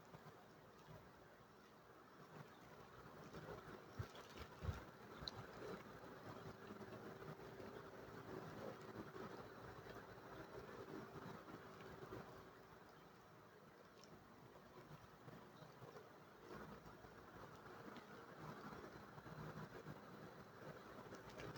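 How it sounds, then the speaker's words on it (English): Passing train heard from a distance, a faint continuous rumble with light rail clatter that swells slightly and fades over about twenty seconds, no voices. "That was the train that was going by."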